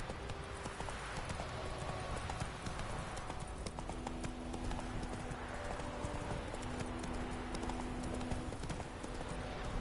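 Roach the horse gallops in The Witcher 3, a steady rapid clip-clop of hooves running continuously throughout, loud and close against a dense game soundscape.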